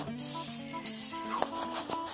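Cooking spray hisses onto a 9 by 13 casserole dish in a home kitchen, a few close, breathy bursts over a low steady hum.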